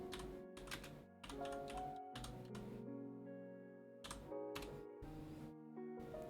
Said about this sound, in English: I gotta type with one finger